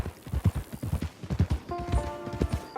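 Horse hooves clip-clop in a steady trotting rhythm on a western range in a video game, close and fairly loud, with a brief sustained musical tone entering partway through.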